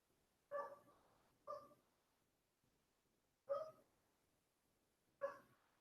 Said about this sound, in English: We have many dogs are barking.